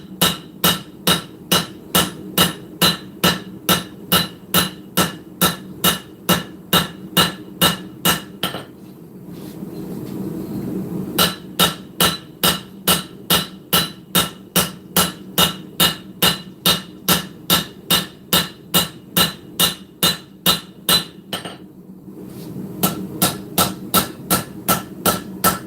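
A short spear is hand forged on an anvil, with steady, evenly spaced hammer strikes ringing loud and close, broken by two brief pauses, with a low roar beneath, likely a forge.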